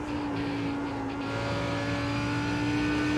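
In a racing video game, IMSA LMP race cars lap Road Atlanta with a steady, loud, droning engine tone and a sustained high whine from the car's own engine, no voices.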